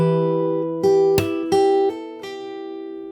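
Fingerstyle acoustic guitar playing a slow phrase of a song, a few distinct plucked notes ringing out and sustaining, close and clear, with no talking.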